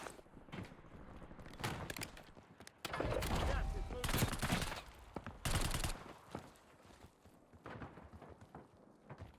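Unsuppressed gunfire in Call of Duty: Warzone: sharp, loud shots come in several rapid bursts, with a heavy stretch around the middle. Quieter game sounds fill the gaps.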